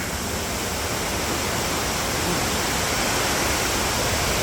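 Sangbay Falls in Pugo, La Union, a steady broadband rush of falling water, constant and fairly close, with no voices.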